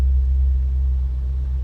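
A 1989 Chevrolet Corvette convertible's engine idles steadily after a cold start, a deep continuous low rumble close by with no voices over it.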